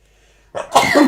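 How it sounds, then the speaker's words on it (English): A single sharp sneeze bursts out of near silence, loud and close, with a short breathy intake just before it. "I've got a sneeze coming just to warn you."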